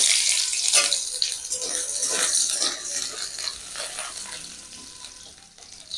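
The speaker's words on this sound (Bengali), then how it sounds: "তেল গরম হয়ে গেছে। এই একটা ছোট আলু কেটে রেখেছি, দিয়ে দেবো কেটে রাখা আলু। ভেজে নেব আলুটা।" Cut potato dropped into hot oil in a wok, a loud bright sizzle that fades slowly over several seconds.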